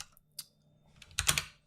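Computer keyboard typing at a desk: a handful of quiet, close key clicks, one isolated tap followed by a quick burst of several keystrokes, with no voices.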